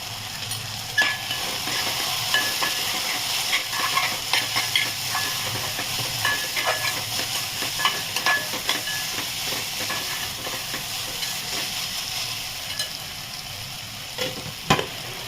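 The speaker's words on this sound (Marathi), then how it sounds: "टाकूया मोहरी, जिरे, हळद, कांदा लसूण मसाला," Mustard seeds, cumin, turmeric and onion-garlic masala fry in hot oil in a pan for a dry sprouted moth bean dish. A steady close sizzle runs throughout, with frequent spatula scrapes and taps, and no talking.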